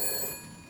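Telephone ringing in the detective video game Shadows of Doubt, a bright electronic ring heard briefly and nearby, starting loud then fading a little.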